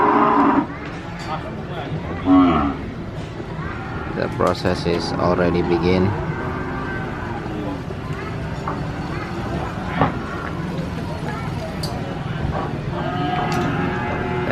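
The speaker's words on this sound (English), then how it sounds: "There are 5 cows or cattle inside the car and ready to unloading from the car." Five cattle mooing as they are unloaded from a truck by a farmer, several loud moos rising and falling over steady background noise, with someone talking throughout.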